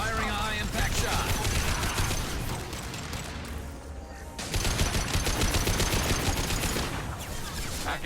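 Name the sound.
gunfire from a high impact shot in video game Mass Effect 2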